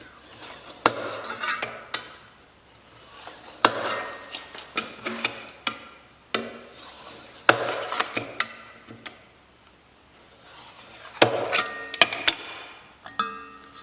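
A steel burnisher is drawn along the edge of a woodworking card scraper to raise a heavier burr, giving a series of sharp metallic scrapes and clicks in irregular bursts, close and alone with no talking.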